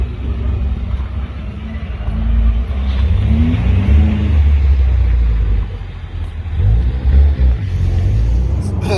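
A Nissan GT-R R35 with a Cobb stage 1 tune pulls hard on an expressway, its engine rumbling loud and rising in pitch through gears alongside road and wind noise, with no talk.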